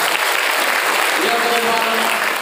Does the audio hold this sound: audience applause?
yes